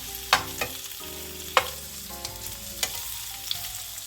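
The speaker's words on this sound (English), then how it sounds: "I'm just going to pan fry my octopus." Octopus pan-frying in rendered chorizo fat, a steady close sizzle broken by a few sharp clacks and scrapes of stirring, with no voices.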